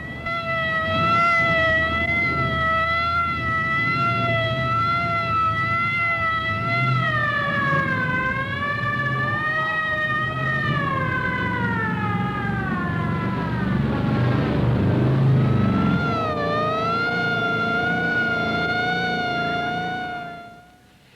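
A Venetian fire engine's siren wails continuously for about twenty seconds, its rising and falling tones sustained loud and near, with steady engine rumble beneath.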